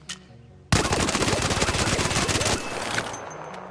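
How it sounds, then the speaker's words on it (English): Bobcat submachine gun from the video game ARC Raiders fires one long, very rapid automatic burst of about two seconds, loud and close, then a brief quieter tail. "If we switch to a different submachine gun, we'll go with the Bobcat."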